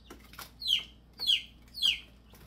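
Three evenly spaced high chirpy calls from a two-week-old chick, a young hen, soft and fairly near, over faint background noise.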